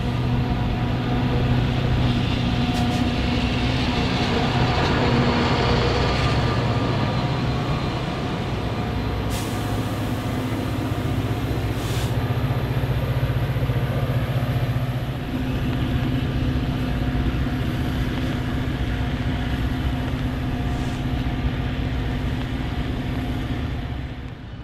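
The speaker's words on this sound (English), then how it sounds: "the crew takes the train set over to the servicing yard for a crew change" A Metra commuter train set rumbles steadily toward a servicing yard, a loud, constant mechanical drone with a few faint metallic clanks and hisses, no voices.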